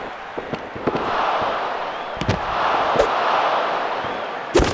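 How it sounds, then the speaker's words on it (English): A firecracker pops with sharp, scattered cracks, several small snaps and a louder bang near the end, over a steady crowd-like rumble. "A firecracker again!"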